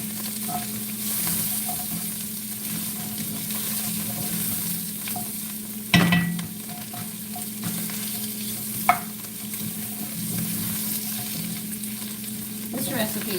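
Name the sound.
mushrooms, tomato paste and garlic frying in a pot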